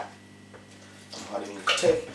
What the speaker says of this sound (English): keep pouring the water inside of the flour right here